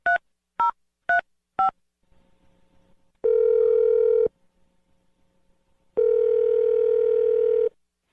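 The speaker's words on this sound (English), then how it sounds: "So let's dial the number." Four quick telephone keypad dialing tones sound first, followed by two long, steady ringback tones separated by a quiet gap, as a call is placed, with no one speaking.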